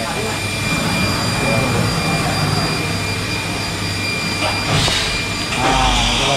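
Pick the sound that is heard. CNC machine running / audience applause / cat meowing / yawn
CNC machine running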